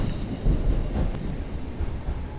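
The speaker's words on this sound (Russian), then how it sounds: "на трамвае едем 65 км в час" Tram car 71-407 running at about 65 km/h in the Trainz rail simulator, a steady low rumble with faint rail clatter and wind-like noise, continuous throughout with no talking.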